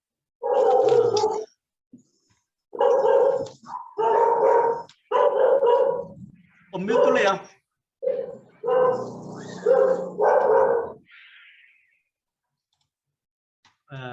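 A dog barks during an online Bible reading fellowship session, giving about eight loud, close barks in irregular bursts over roughly ten seconds, with a brief line of speech at the start.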